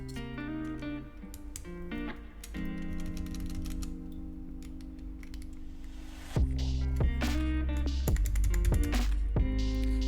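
Keys clacking on a cheap £3 Temu keyboard fitted with a tape mod, with its stabilized keys ringing; a close, steady run of typing with rattly, tonal strikes that grows louder and busier partway through.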